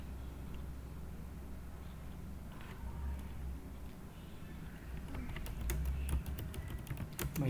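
Program text being typed on a computer keyboard: irregular, fairly soft keystrokes over a low room hum, growing into a quicker clatter of clicks toward the end.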